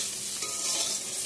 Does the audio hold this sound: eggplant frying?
yes